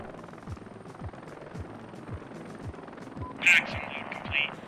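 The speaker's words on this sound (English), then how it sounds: "Ah, I've got a much better helicopter for the task now." Helicopter in the combat game Heliborne, a steady rotor beat of regular thumping pulses over a constant engine drone, with a brief louder burst of game effects near the end.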